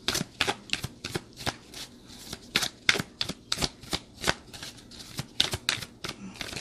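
A tarot card deck being shuffled close up, with a quick rapid run of crisp papery riffles and flicks in an uneven rhythm, quiet and alone.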